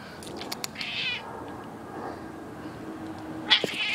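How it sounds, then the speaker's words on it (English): A cat outdoors gives a faint, drawn-out yowling meow, followed later by a sharper, louder cry, with quiet outdoor background noise between the calls. "so there's this fucking cat outside."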